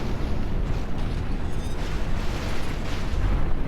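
A mech's weapon shot explodes in the video game Phantom Brigade, a loud, sustained, rumbling blast that rolls on as dense noise for several seconds with no talk.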